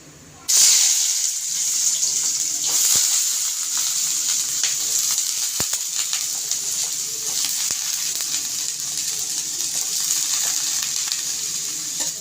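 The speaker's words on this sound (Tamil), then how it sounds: "லைட்டாக நம்ம கொஞ்சம் ஹையில் வச்சுட்டு நல்லா வணக்கி விடலாம் இந்த எண்ணெயிலே கொஞ்சம் நேரம் நல்லா வணக்கி விடணும்" Carrots and beans sautéing in oil over high heat, a steady loud sizzle that starts abruptly and holds throughout, with occasional faint stirring scrapes.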